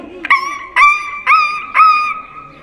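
A person on stage at a school show in Peshawar imitates a dog with four sharp, howling barks in an even rhythm, each a loud, close, voiced yelp that trails off briefly before the next.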